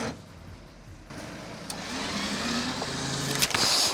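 A long-abandoned car arriving, its engine running with a low steady hum that swells slightly as it draws closer, with a brief higher whine near the end; no talk.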